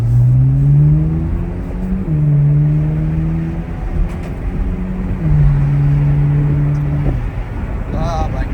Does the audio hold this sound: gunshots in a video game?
no